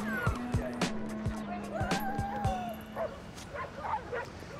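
Several dogs yip and bark in short, irregular bursts in a comedy TV scene, fairly soft and mixed with a low steady hum and background voices.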